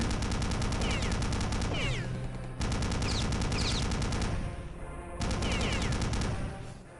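Rapid, continuous automatic gunfire in the Wolfenstein VR video game, dense bursts with brief pauses between volleys, loud and close, with no talk over it.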